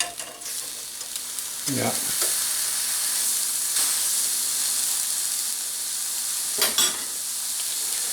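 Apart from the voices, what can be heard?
sausage patty frying in pan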